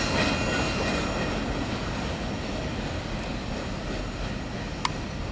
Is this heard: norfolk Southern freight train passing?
yes